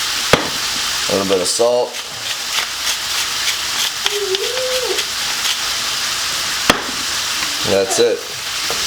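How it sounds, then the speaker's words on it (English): Ground beef browns in a pan on an offset smoker, giving a loud, constant sizzle with stirring scrapes, while someone talks briefly over it in short bursts. "we're just going to brown our ground beef"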